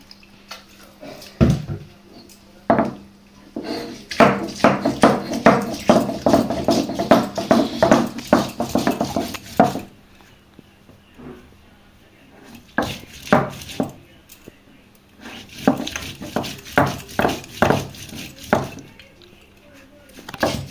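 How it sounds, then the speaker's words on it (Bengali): Ginger and garlic ground into a paste by hand, heard as bursts of quick, rhythmic knocking and grinding strokes, close and fairly loud, broken by short pauses. "আদা রসুনগুলো বেটে নেবো আমি।"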